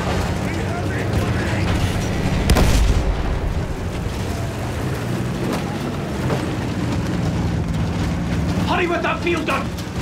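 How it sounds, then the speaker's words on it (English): Field gun artillery in the Battlefield video game: heavy booms and blasts rolling through a constant dense roar of battle, loud and sustained throughout with occasional sharper impacts. "Field gun!"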